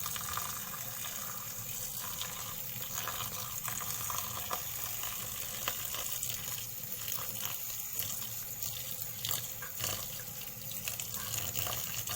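Tap water runs steadily into a sink while oyster mushrooms and sticky rice water are rinsed for Thai fermented mushroom sausage. The stream gives a continuous soft splashing hiss throughout, fairly quiet, and no one speaks.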